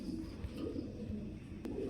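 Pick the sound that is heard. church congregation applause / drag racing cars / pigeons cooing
pigeons cooing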